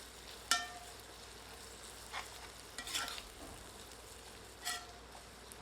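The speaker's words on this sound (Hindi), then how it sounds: "अब आंच को मध्यम करके प्याज को तब तक भूनते हैं जब तक कि प्याज सुनहरे रंग में परिवर्तित नहीं हो जाती" Sliced onions and curry leaves fry in oil over medium heat, giving a faint steady sizzle broken by a few light stirring scrapes and clinks of a spoon in the pan.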